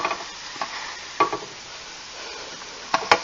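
French toast fries in a pan, giving a quiet, steady sizzle broken by a few sharp clinks and scrapes of a utensil against the pan.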